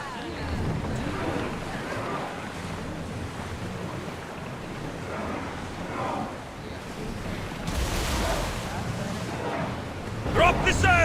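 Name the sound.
ship sailing on waves in Assassin's Creed video game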